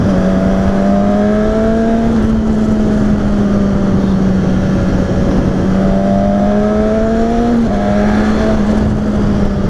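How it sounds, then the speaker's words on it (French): A 2019 Suzuki Katana four-cylinder motorcycle with its stock exhaust holds a loud, smooth, steady drone. The pitch lifts and settles in brief blips of revving, close by and with no talk over it. "la sonorité du 4 cylindres avec le pot d'échappement d'origine est vraiment satisfaisante"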